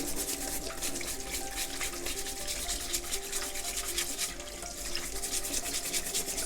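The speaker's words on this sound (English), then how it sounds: "So we're just going to wash them with a washing brush, and then you just scrub them." Stiff brush bristles scrub steadily over the shells of sea crabs being washed clean, a continuous close rasping rub with faint watery sounds underneath and no talking.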